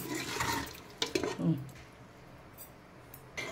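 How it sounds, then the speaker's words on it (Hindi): Spiced water poured briefly into a pressure cooker of mutton liver, kidney and heart, a short splashing gush that fades, followed by quieter drips and a soft clunk, close by. "अब इसमें थोड़ा मसाले वाला पानी ऐड करें।"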